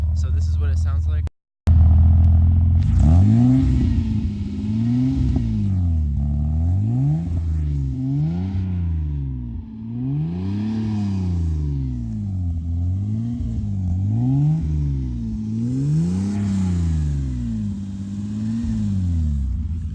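BMW E30 with an M20 inline-six and Magnaflow exhaust revs lightly to about 4,000–5,000 RPM, over and over at close range, each loud rise and fall repeating steadily after a brief cut near the start.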